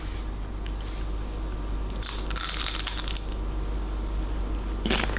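Crisp crunching bites into thin Norwegian flatbread topped with reindeer meat and sour cream, a close brittle burst around two seconds and another short crunch near the end over steady low room hum.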